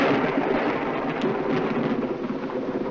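Thunder from a thunderstorm, heard as a steady broad rumble with rain-like hiss that stays fairly loud and even, without a distinct sharp crack.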